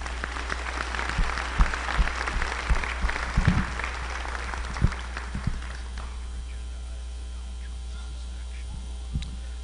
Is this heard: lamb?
no